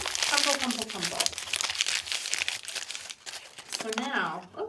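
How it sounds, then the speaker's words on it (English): A brown paper sack is crumpled by hand in quick, crackling bursts that run through most of the moment, while someone talks over it. "we're going to kind of crumple it up a little bit. Just crumple, crumple, crumple."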